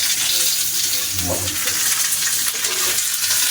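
Fish sautéing in a pan gives a steady loud sizzle and hiss, with a brief stirring scrape in the middle, close and continuous with no talk.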